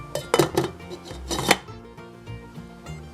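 A metal lid clatters onto a simmering pot of potato peel soup, with a cluster of sharp clanks and clinks close by, then quieter rattling and low bubbling.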